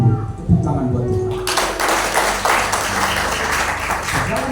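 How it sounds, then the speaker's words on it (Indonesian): A church congregation breaks into applause during a Sunday worship service, loud broadband clapping that bursts in after a moment and carries on steadily to the end, with voices heard underneath. "Tepuk tangan buat Tuhan"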